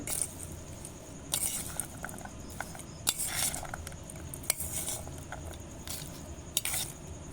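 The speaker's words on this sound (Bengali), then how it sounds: "চাট মশলা তার মতো লবণ সব কিছুকে ভালো করে নাড়িয়ে চাড়িয়ে মিক্স করে নেব" Papdi chaat with masala and salt being stirred and tossed in a bowl, a steady run of metallic spoon scrapes and clinks with repeated brighter clatters, close and clear with no talking.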